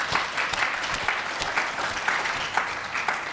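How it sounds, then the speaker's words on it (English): Audience applause at an Endeavor South Africa market-open business event: a dense, steady wash of many hands clapping, with a few sharper claps standing out, sustained throughout without talk. "everyone should give them a huge round of applause"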